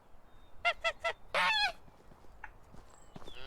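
Geese honk in the medieval farming game Medieval Dynasty: three short honks in a row, then a longer burst of overlapping calls, fairly quiet against soft background ambience.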